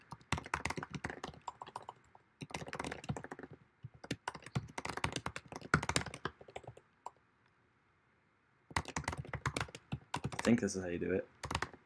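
Quick bursts of computer keyboard typing, rapid close clicks in uneven runs with pauses between them, while a person speaks over parts of it.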